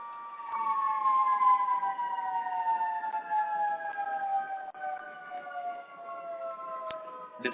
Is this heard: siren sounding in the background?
yes